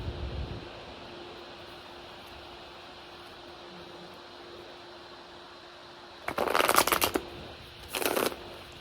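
An Osho Zen tarot deck is shuffled in two brisk bursts of riffling cards near the end, close and clear after a long quiet stretch with faint background hum.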